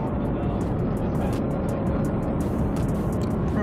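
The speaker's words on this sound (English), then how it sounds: "this car sounds like it's about to conk out" A BMW M6 engine drones loudly and steadily with a rough, straining rumble, continuous throughout with no voices.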